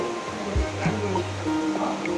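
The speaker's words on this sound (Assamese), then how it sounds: "এইফালে তেল বহাইছোঁ আৰু এইফালে বুন্দিয়া ফ্ৰাই কৰিছোঁ।" Besan boondi frying in hot oil gives a dense, steady sizzle and bubbling, close and continuous, with a few low knocks and clinks from the cookware.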